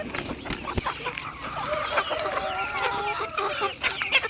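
Chickens clucking outdoors, several birds calling in overlapping, irregular clucks at close range, fairly loud and continuous.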